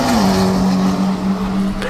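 A C6 Corvette Grand Sport makes a loud, close drag racing run at an elimination event, its engine holding a steady roaring tone with tire squeal and crowd noise around it.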